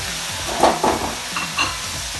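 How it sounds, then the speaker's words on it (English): Beef, onions, carrot, celery and leek fry in a pan over high heat, a soft sizzle with a few short bursts of stirring scrape, close by. "We're going to add in our carrot, celery and leek into the pan."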